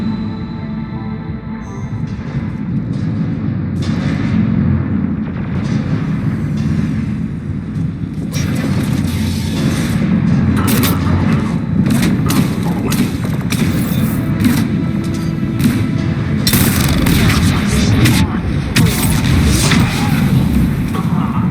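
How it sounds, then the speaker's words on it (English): Heavy cannons firing in the video game Mass Effect 3, heard as repeated deep booms and thuds over a dense, constant rumble of battle. The blasts come thick and loud, with no talk over them. "Those cannons have to be stopped."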